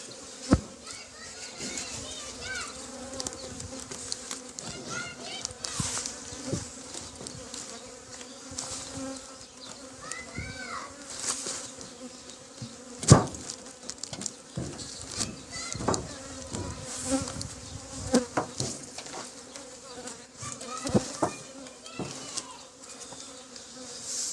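Honey bees buzzing around an open, agitated hive during a spring ten-frame inspection, a dense, continuous outdoor hum with individual bees passing near, plus scattered knocks, distant children's voices and bits of talk.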